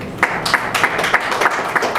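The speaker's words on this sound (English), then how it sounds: "I would think we should give Ciota a round of applause." A crowd applauds at an inauguration ceremony for an institute's third governing council, giving a loud, close burst of steady clapping with rhythmic peaks and no talk over it.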